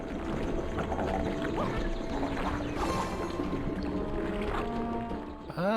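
Water wheel turning in a platforming video game: a continuous splashing, churning water sound with low creaking tones, steady throughout with a faint voice starting at the very end.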